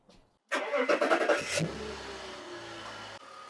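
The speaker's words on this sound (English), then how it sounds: "So now I'm going to turn the car back on" A BMW E46 engine cranks briefly and catches, then settles into a steady idle, close by and fairly quiet, with A/C charging equipment connected.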